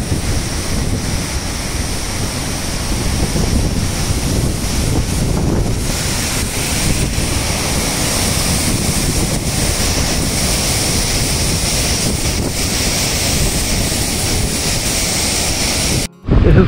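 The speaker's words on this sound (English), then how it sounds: "This is one more big waterfall here." A big waterfall in North Sikkim roars as a loud, steady broadband rush of falling water, continuous and close for the whole stretch, with wind buffeting mixed in and a brief dropout near the end.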